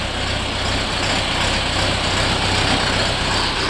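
A Shifeng 404 tractor's engine runs steadily and loudly close by, a dense, unbroken rumble with no changes in pace.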